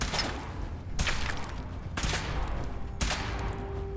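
Weapon fire during a power-armor suit test in Fallout 4: four sharp gunshot-like blasts at regular one-second intervals, each with a short ringing tail, loud and close.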